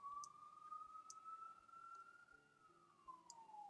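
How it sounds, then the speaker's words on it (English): A faint siren wails steadily in the distance, its pitch slowly rising and falling, with a few soft clicks nearby. "there's just sirens going on in the background"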